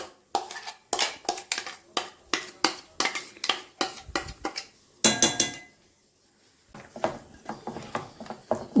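Ground vada batter is scraped from a mixer jar into a bowl with a spoon, giving a series of close metallic clinks and knocks, with a brief pause before more scraping taps.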